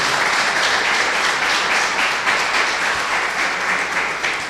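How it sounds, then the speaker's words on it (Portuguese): A church congregation applauding, dense and sustained clapping filling the room at steady loudness throughout, with no voices standing out. "Você pode aplaudir ao Senhor por isso?"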